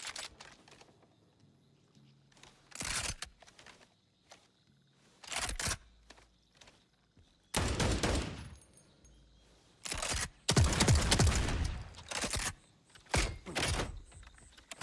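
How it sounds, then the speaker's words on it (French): Sniper rifle shots in the video game Borderlands 4, loud sharp broadband bursts fired one by one at irregular intervals, several heavy blasts in the second half. "On appelle ça un fusil de précision?"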